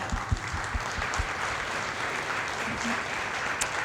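An audience at a community forum celebrating immigrants applauds in a steady, moderately loud patter, with a few low thumps near the start.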